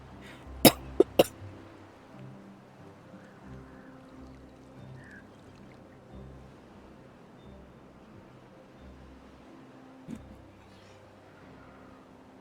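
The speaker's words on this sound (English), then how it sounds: "I still have a little bit of a cough that keeps coming and going and sneaks up on me at the weirdest times" A person coughs twice in quick succession near the start, with one more cough much later, over a quiet, low ambient music bed.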